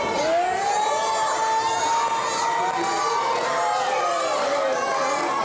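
A wrestling crowd at a live event cheers and shouts loudly and continuously, with high children's yells and whoops rising over the roar throughout.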